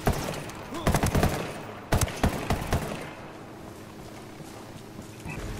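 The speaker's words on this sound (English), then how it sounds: "Bunch of dudes shooting off guns" Gunfire in the Ghost Recon Wildlands video game, loud clustered bursts of shots in two volleys, then quieter ambient noise with scattered faint pops.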